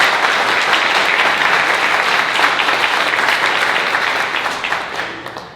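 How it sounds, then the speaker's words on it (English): A crowd claps loudly and continuously at a building's grand opening, a thick, close wash of hands that holds steady for several seconds before gradually tapering off. "I want to stop there and give him a round of applause."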